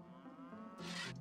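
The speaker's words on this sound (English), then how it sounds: "That sounds painful to milk the cows. Sounds like we're using a saw rather than a milking pail." Milking a cow in the farming game Echoes of Plum Grove, a brief low moo-like drone followed by a short, harsh rasping burst like a saw stroke, quiet and alone.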